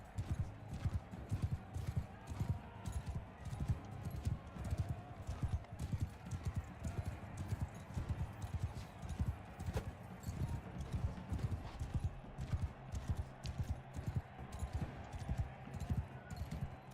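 Horse hooves clip-clop and gallop steadily in the Mount & Blade Bannerlord video game as a rider chases down a horse, a dense rhythmic pounding with an occasional whinny over low battle rumble.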